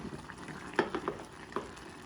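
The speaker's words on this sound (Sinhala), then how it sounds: "දැන් බාගෙට තැම්බිලා තියෙන පරිප්පු හොඳින් කලවම් කරන්න." Half-boiled lentils for dhal curry being stirred in a pot, a soft wet bubbling with a few light spoon knocks against the pot.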